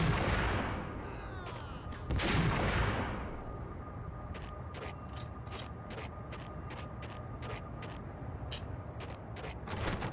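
Rifle gunfire in Max Payne: a series of sharp, evenly spaced shots rings out after a whooshing, clattering opening, each crack short and fairly close amid low background hum.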